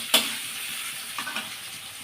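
Vegetables for a Bengali fish curry frying in a pan, a steady soft sizzle with one sharp clatter near the start and a few light scrapes of stirring later, no voices.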